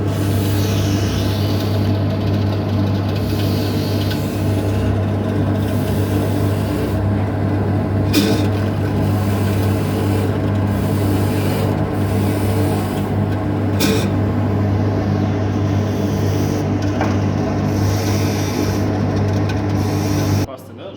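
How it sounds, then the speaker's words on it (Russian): A jewelry polishing machine runs with polishing paste applied to its wheel while a pendant is polished. It gives a loud, steady whirring drone with a constant low hum that carries unbroken throughout and cuts off at the very end. "Включаем станок и наносим пасту. После нанесения пасты уже полируем изделие."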